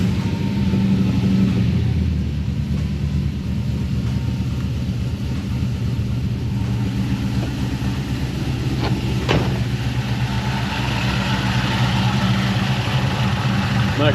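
A supercharged Nissan Patrol tow rig engine idles with a loud, steady mechanical drone and a low rumble, running continuously with faint brief transients over it.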